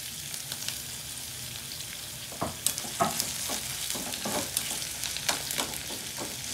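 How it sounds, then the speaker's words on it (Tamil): Thinly sliced onions and curry leaves frying in a pan for sambar, a steady sizzle with a series of spoon scrapes and taps in the second half, close and with no talking. "நல்லா கொஞ்சம் ப்ரௌன் ஆகும் வரையும் வேகட்டும்."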